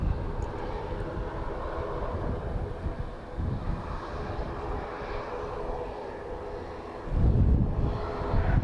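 An airplane at Dublin Airport, a steady, fairly loud broadband engine roar with wind buffeting, swelling louder near the end as the aircraft draws closer.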